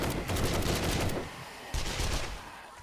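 Bursts of rapid submachine gun fire in a 7 Days to Die zombie horde fight: a dense, loud string of shots that breaks off briefly, then resumes for a second burst.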